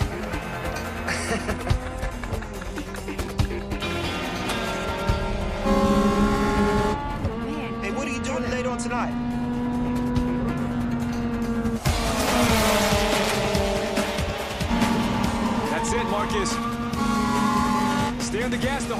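A race car on a track roars as it accelerates and brakes, with engine revs rising and dropping and tires squealing, mixed under music and occasional voices.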